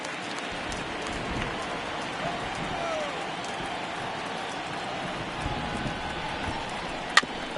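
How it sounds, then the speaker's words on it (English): Heavy rain pours over a baseball field in the MLB The Show 19 video game, a steady hiss of falling water under ongoing commentary, with a brief sharp knock near the end. "Really starting to pour now, and the forecast is not showing any signs of a break in the weather."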